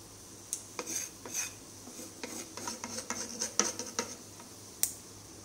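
Hot tempering poured over a Kuttanadan-style karimeen (pearl spot) fish curry in a pot, giving scattered clinks of utensil against pot and light sizzling and stirring, close and moderately loud with no talk.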